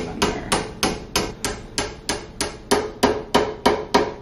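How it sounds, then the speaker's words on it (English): A hammer taps a glued wooden dowel into its hole, struck sideways with the textured end, during a DIY wooden door build: a steady series of about thirteen evenly spaced, close, crisp knocks with no talk. "So then we just put the dowel in, and we're gonna lightly tap it in there."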